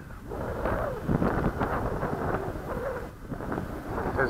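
Wind buffets the microphone outdoors where a dragonfly is flying, a continuous low rumble swelling and easing in gusts, with no one speaking.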